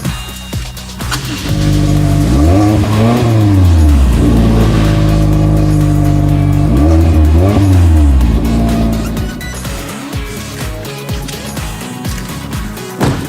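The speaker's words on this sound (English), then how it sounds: "driving excitement is further enhanced through the exhaust system we saw earlier, which uses a conical design and tuned muffler to deliver a pulse-quickening tone" A 2022 Toyota Corolla Apex sedan with a conical exhaust and tuned muffler revs hard, its loud engine note climbing and falling in two long sweeps before settling toward idle, close and dominant with no talk.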